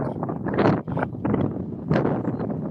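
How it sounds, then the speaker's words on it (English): Outdoor wind buffeting a microphone in uneven, rumbling gusts that swell and drop out briefly, loud and close, with no clear talk over it. "That's real windy."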